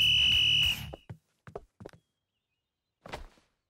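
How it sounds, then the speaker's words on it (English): A referee's whistle sounds one loud, sustained shrill blast to start a cartoon wrestling match in a ring, followed by a few scattered thumps and scuffling footsteps. "When I blow the whistle"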